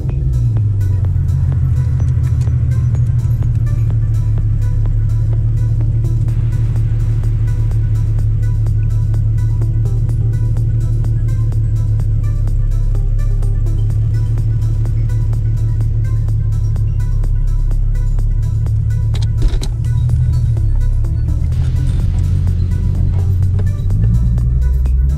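An Infiniti G37 sedan fitted with ISR long tube headers idles after a short drive, a deep, steady exhaust rumble close by and continuous throughout with small fluctuations and no talk.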